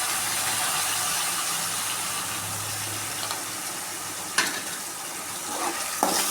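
Ground coriander leaf paste sautés in a pan with a steady, close hiss, broken by a few sharp knocks of a spoon being stirred through it.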